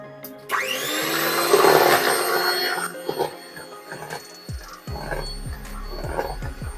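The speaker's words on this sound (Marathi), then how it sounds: "आता पुन्हा आपण ब्लेंडरने हे ब्लेंड करून घेऊया" A blender whirs up loudly as it mixes a vanilla custard ice cream mixture, running steadily for a couple of seconds before winding down, followed by softer knocks and scrapes nearby.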